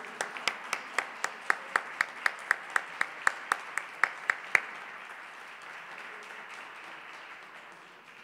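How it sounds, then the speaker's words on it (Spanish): At a ceremony handing instruments to a youth orchestra, a crowd claps in unison with loud, evenly spaced rhythmic beats for about five seconds, then dissolves into softer scattered applause and murmuring that gradually fades. "El aplauso."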